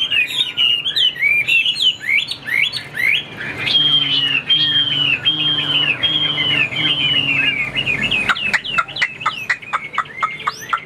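Chinese hwamei songbird singing a loud, close run of bright varied whistles and rapid chirps, with a steady lower chiming tone underneath in the middle and a burst of sharp clipped notes near the end.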